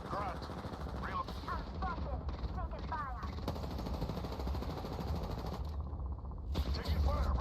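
Rapid automatic gunfire in Apex Legends ranked play, with bursts of shots and fusillades running through the clip over a busy game mix with chirpy effects, loud and near throughout.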